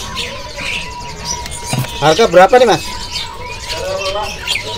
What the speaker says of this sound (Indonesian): ini ready untuk burung cucak hijau ini yang jenis yang betina